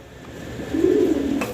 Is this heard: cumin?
no